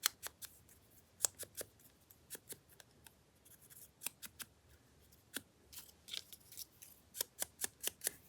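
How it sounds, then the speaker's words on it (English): Scissors snip paper pieces trimmed where they overhang a crafting page, a series of crisp separate cuts in irregular clusters, close and clear with no talking. "And I'll just trim them where they hang over."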